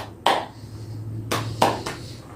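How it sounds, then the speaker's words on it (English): Hands clapping in a simple English lesson: four crisp claps, one on its own followed by a quicker group of three, close and clear over a faint steady hum. "I clap. Can you clap? I clap. And you clap."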